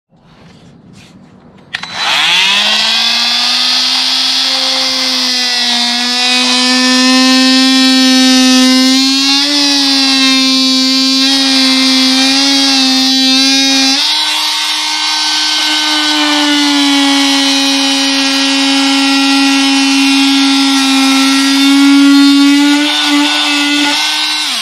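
A power tool fitted with a caulk scraping blade, run upside down, cuts into a TW200 motorcycle tire with a steady, loud, close motor whine that holds for over twenty seconds with slight shifts in pitch.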